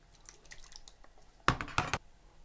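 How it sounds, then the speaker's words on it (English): Diced tomatoes tumble into a soup pot of butternut squash and lentil soup, a faint wet clatter and squish early on, then two louder bursts of plopping and splashing near the end. "Okay, I'm going to put in the tomato."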